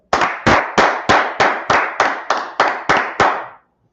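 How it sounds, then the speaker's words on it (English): Ten sharp, evenly spaced bursts of clapping from a church class gathering, loud and close, like unison rhythmic claps about every third of a second, with no talking, ending in silence. "Clap it up for the Lord."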